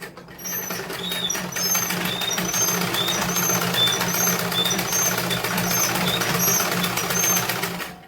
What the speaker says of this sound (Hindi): तो देखिए अब हम इस पे सिलाई चलाते हैं।